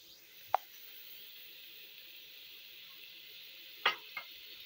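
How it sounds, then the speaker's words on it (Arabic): Half the onions dropped into a pan of chicken for oven-grilled chicken in a traditional Egyptian clay oven: two soft, brief plops about three seconds apart over quiet background hiss, with no talk. "هنبدا نضيف نص البصل، ده نص البصل بتاعنا اهو"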